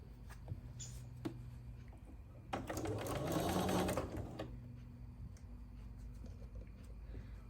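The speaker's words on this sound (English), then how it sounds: "now we're going to sew these units together" A sewing machine stitches quilt block units together in a short, close burst of rapid whirring needle strokes lasting about a second and a half, set against a quiet hum, with no talk.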